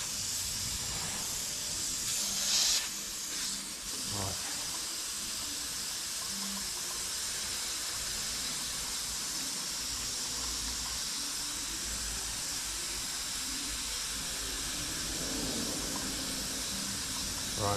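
Compressed air hisses steadily and loudly during a cylinder leak test on a Citroën C3 1.2 PureTech engine, with a brief spoken word over it.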